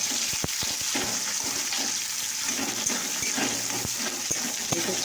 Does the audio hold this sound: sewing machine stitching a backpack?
no